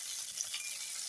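Onions and green chilies fry in a pan for a few seconds, a soft, steady hiss of oil with no other sound.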